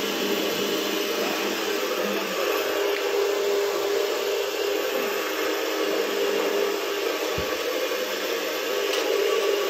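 A cattle-feed-making machine runs steadily while turning out feed, a loud, continuous whirring roar with a broad hiss and a low hum, unbroken throughout and without voices.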